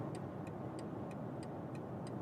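Steady, evenly spaced ticking of the turn indicator in a BMW i7 M70 electric saloon, about seven crisp clicks at a regular pace over a soft cabin hum, with no one talking.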